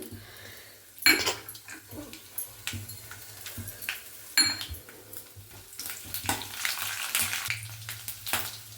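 Urad dal, cumin, fennel and mustard seeds frying in hot oil in a pan, giving a close, steady sizzle with crackles and pops. A spoon clinks against the pan now and then, and the sizzling grows busier toward the end.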